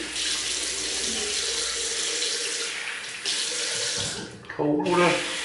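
A tap runs steadily into a sink while a face is rinsed during a shave, a loud continuous gush that briefly falters near the end and then resumes with splashing.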